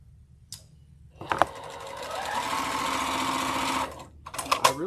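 A sewing machine runs in one steady burst of rapid stitching, joining raspberry and peach quilt cornerstones. A few clicks and handling knocks come before and after the run, close and fairly loud.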